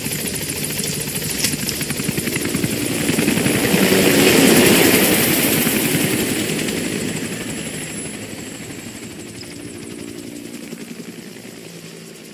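Extraction helicopter arriving in Metal Gear Solid V: The Phantom Pain, a loud continuous rotor drone that swells to a peak midway then eases slightly, alone without talk.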